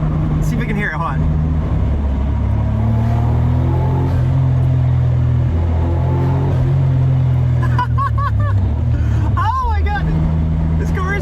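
A Mitsubishi Galant VR-4 engine hums steadily from inside the car, a constant low drone with pitch shifts as revs change, while people talk over it at times.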